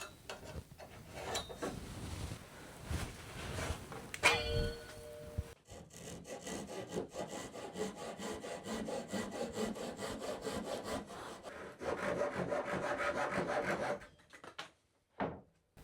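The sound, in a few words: sawing off ends of wooden windowsill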